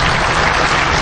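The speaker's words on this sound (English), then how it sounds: "But that's who we should also applaud." A hacking conference audience breaks into steady, loud applause filling the hall, a dense uninterrupted wash of clapping.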